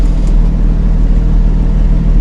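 Porsche 991.1 GT3 engine idling with the exhaust baffle button engaged, a loud, steady low rumble close by with no voices.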